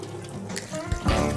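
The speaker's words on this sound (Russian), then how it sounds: "Кран только с холодной водой." Water runs from a cold-water tap over hands being washed at a sink, a short close splashing stream that swells toward the end.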